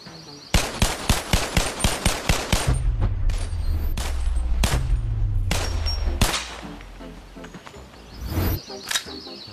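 A cursed-looking Glock fires in Bonelab, a rapid burst of about ten sharp, evenly spaced shots, then scattered louder single cracks mixed with metallic clangs and a low rumbling hum.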